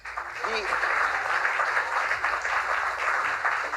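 A studio audience at a late-night panel talk show applauds steadily, a dense, continuous wash of clapping at moderate volume with a brief voice at the start.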